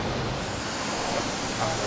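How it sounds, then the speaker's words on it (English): A waterfall approached on a scenic tourist outing, giving a constant broadband rushing roar of falling water mixed with wind buffeting the microphone, steady and fairly loud throughout. "This is us arriving at the waterfall."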